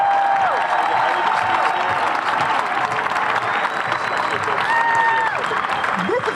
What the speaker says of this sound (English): giving them a loud, a boisterous, a wonderful, a foot-stamping applause right now